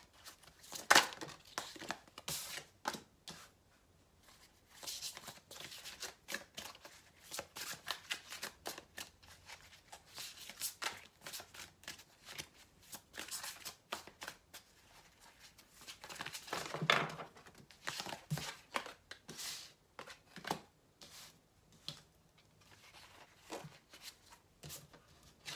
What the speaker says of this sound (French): j'ai mis les cartes dans le désordre